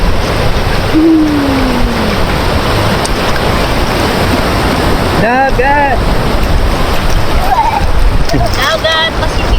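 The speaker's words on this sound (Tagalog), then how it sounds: "Dagat Pasipiko." A loud, constant rush of Pacific Ocean surf and wind at Baler, Aurora fills the clip, with brief voices and whistle-like tones drifting over the roar.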